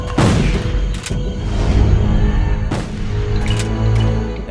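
Heavy, booming shots from a revolver-like gun in the video game Jurassic The Hunted ring out at spaced intervals, with one about every second or two, each followed by a rumbling tail.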